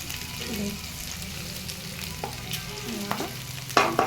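Ingredients for mint chutney, tamarind among them, fry in a pan with a steady low sizzle. Several scraping strokes of stirring come through, and a louder clatter sounds near the end.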